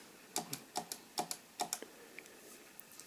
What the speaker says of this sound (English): it will jump back to interpret and wait for the next word, and you should hear a click